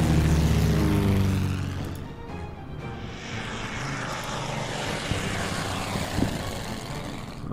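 Scout planes fly in the Order of Battle Kriegsmarine campaign: a loud, steady propeller-engine drone that begins heavy and close, then thins to a sustained hum.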